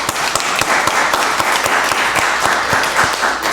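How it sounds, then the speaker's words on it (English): A crowd at a county board of commissioners meeting applauds with dense, steady clapping throughout, a few individual claps standing out, fairly loud and close. "Let's give them another round of applause."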